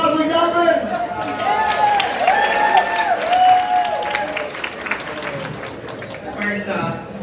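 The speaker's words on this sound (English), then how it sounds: "Round of applause for Jacqueline!" A gala crowd applauds and cheers for an honoree, with dense clapping mixed with loud whoops and shouted voices that fade toward the end.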